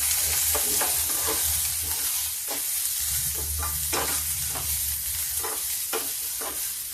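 Sliced tindora (kundru) frying in oil with browned garlic and onion make a continuous sizzle, punctuated by regular scraping clicks as a spatula stirs the pan slowly, close and with no talking.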